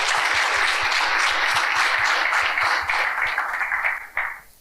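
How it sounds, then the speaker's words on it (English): An audience at an environmental debate applauds its panel, a dense, sustained burst of clapping heard close and loud that tapers off quickly at the end. "I think a round of applause for our panel today."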